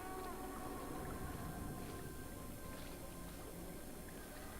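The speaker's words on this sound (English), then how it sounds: "I mean, they're whales, but they're orcas," Orca whale calls from a video game come as high whistling, tonal cries over a constant dense wash of water noise, faint and steady throughout.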